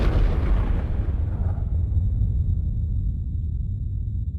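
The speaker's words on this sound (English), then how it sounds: "like an exploding bomb, everything explodes away from a center." A bomb explosion sound effect: a heavy, loud burst followed by a deep, sustained rumble that slowly decays over several seconds, with no voices.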